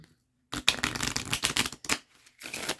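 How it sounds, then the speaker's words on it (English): Tarot cards are shuffled briskly up close, a rapid papery riffling in several bursts with short pauses between, no talking. "let's shuffle this up a bit."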